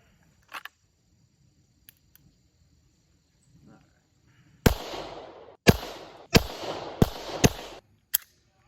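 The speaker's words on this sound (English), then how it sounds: "So I'm gonna do about, I don't know, 10, 15 feet away and just see what it is on that big target. We'll do 5 shots." Five loud, close shots from a World War II handgun fired at a target about 10 to 15 feet away, evenly paced roughly a second apart, followed by a sharp click, after a quiet stretch with faint handling noises.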